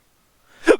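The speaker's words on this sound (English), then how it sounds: "Sorry, I got the hiccups." A single sharp hiccup from a man, brief and close, rising out of near silence and followed by a faint breathy trailing sound.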